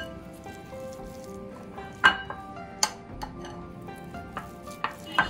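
Cooked, peeled sweet potatoes and dates being smashed together in a bowl, with wet squelching, scraping and a few sharp utensil clinks against the side.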